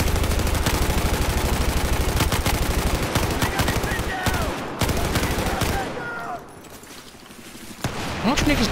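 Rapid light machine gun fire in the Battlefield 4 video game, a dense sustained burst that briefly drops away before picking up again near the end, with voices talking over it.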